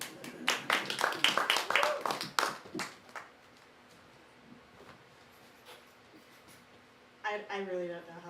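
Audience applause for the poet Kalinda at a poetry event: a dense burst of clapping for about three seconds that fades into quiet room tone, followed by a voice beginning to speak.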